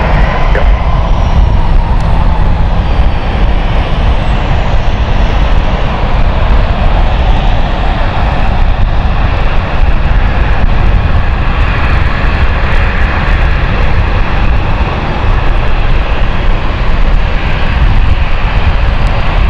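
An aircraft powered by Pratt & Whitney 1000 engines roars loudly at London City airport, a sustained, dense jet rumble with whining tones that holds strong throughout without talk.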